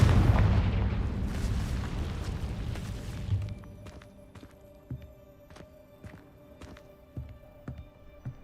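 A Confringo blasting curse in Hogwarts Legacy sets off a loud, rumbling explosion that fades over about three seconds, followed by scattered quieter pops and knocks.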